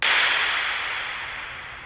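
A single sharp burst recorded inside the Cathedral of Learning at the University of Pittsburgh, followed by a long, bright reverberant tail that slowly fades. It is loud and close, with no voices.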